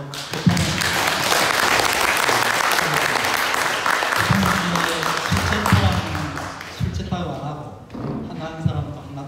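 An audience at an academic conference on meditation gives sustained, loud applause that fills most of the stretch before thinning out, with a voice speaking over the clapping near the end.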